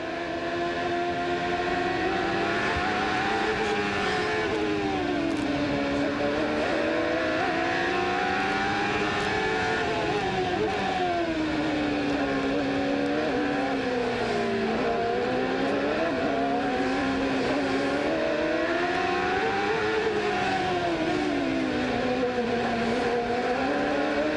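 CART race cars at the 1995 Detroit street circuit, engines screaming loud and continuous as they rise and fall in pitch through sharp curves, several cars overlapping with no talk.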